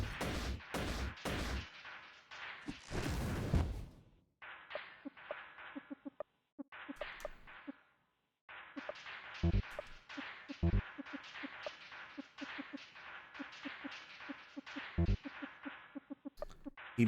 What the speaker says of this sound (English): I'm just gonna use 2 fire bombs.